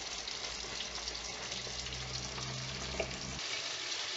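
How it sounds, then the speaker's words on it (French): A meatball sauce simmering in a pot with a soft continuous bubbling hiss, faint and close, with an occasional light stir and a low hum underneath. "Je remue un peu de temps en temps pour voir ce que ça donne."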